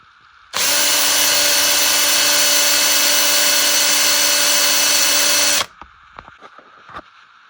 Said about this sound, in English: that's what I'm about to do, drill and tap and mount the block